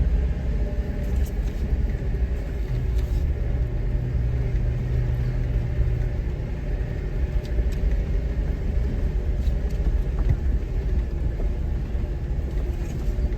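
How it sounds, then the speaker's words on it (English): Stock Jeep with a 3.8 liter engine, six-speed manual and 4.88 gears crawling up a steep trail in second gear four-low, a steady low rumbling idle with light throttle, continuous and close. "Second gear 4 low, and I'm barely even on the gas, just feathering it, and that's about it"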